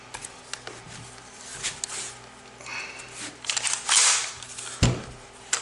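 A Kel-Tec KSG shotgun's action is worked by hand. Scattered metallic clicks and sliding clacks come at close range, with a sharper clack near the end, over quiet background.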